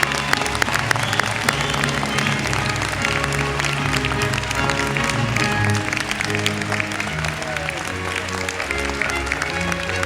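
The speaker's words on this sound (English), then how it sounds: "join me in one more round of applause for the graduates, the NUNM class of 2019" Audience applause for the graduating NUNM class of 2019 at a commencement ceremony, steady and full across the whole stretch, mixed with crowd noise and tonal music-like sounds underneath.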